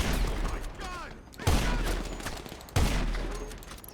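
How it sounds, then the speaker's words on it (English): Video game gunfire: a continuous crackling of shots, with two sharp, loud reports standing out about a second apart, close and dry. "Stop shooting at me."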